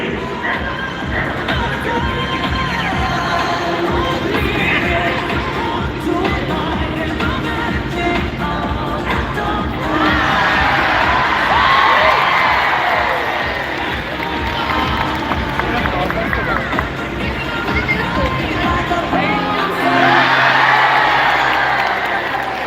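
Loud crowd noise swells and surges from an audience at a SuperDogs dog show, with broad cheering peaking twice across the stretch and a dense, continuous roar throughout, under an announcer's voice.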